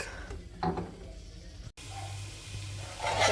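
An egg fries in a pan for fried rice, giving a soft, low sizzle with a few light clinks and shuffles, fairly faint and steady throughout.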